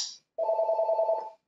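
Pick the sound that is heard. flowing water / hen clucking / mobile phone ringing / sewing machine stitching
mobile phone ringing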